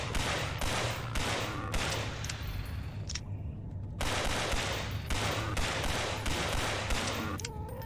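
Gunfire in the horror shooter Nightmare House 2, rapid repeated shots in fast bursts with a brief pause midway, loud and close over a steady low hum, no talking.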